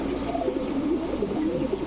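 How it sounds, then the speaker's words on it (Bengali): A pair of Red Lahori Siraji pigeons cooing close by, soft throaty rolling coos repeating in a continuous murmur. "এখন দেখাবো এক জোড়া রেড লাহোরি সিরাজি কবুতর"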